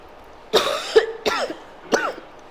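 A person coughs in three separate harsh bursts, close and fairly loud, with a brief throaty rasp between the first two and quiet pauses around them.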